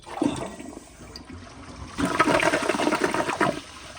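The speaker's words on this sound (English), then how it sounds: "I'm gonna just guess this is how it would flush." A new 2022 round Kohler Highline toilet flushes close by, a steady rush of water building into a louder swirling gush and draining, with no talking.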